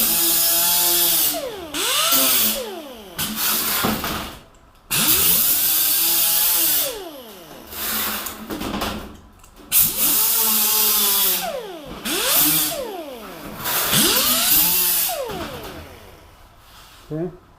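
An angle grinder tipped at about 45 degrees deburring the edge of a painted panel, whining in repeated bursts that rise and fall in pitch as it bites the workpiece, with brief pauses between passes.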